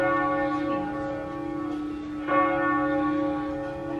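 Church bells ring out in Amsterdam around midday, a steady sustained peal of many overlapping tones with a fresh strike near the middle, loud and continuous without voices.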